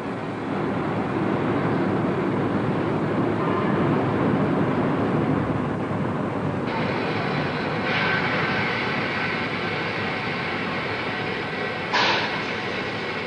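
A steady, broad rumble of the Orient Express train rolling along rails through Turkey toward Istanbul, continuous and fairly loud, with a brief brighter hiss near the end.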